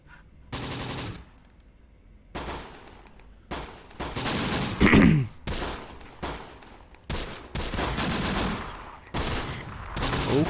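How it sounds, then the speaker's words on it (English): Rifle grenades and small-arms fire in the WWII strategy game Close Combat: The Bloody First, a string of loud, close bursts and explosive cracks repeating in uneven clusters with brief gaps between them. "They're firing some rifle grenades."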